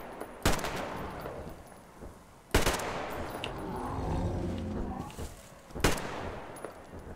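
Three sharp, separate gunshots in the Metro Exodus video game, each a loud crack spaced a couple of seconds apart, with low rumbling ambience in between.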